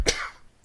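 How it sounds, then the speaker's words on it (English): One short, sharp cough bursts out close to the microphone and quickly trails off into quiet. "You got a bit of a cough."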